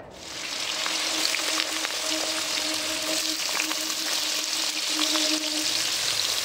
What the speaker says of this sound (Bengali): তেলটা গরম হয়ে গেলে এর মধ্যে আলুটা ভেজে নেব